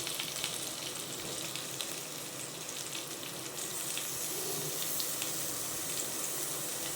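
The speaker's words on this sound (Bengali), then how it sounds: "এখন এর মধ্যে আমি এই ঝিঙেটা দিয়ে দিচ্ছি" Ridge gourd hits a pan of frying potatoes and keeps up a continuous hissing sizzle, fairly close and steady, with faint stirring and no talking.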